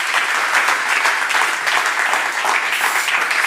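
An audience at a startup competition final event gives a round of applause, dense steady clapping from many hands filling the room loudly from start to finish.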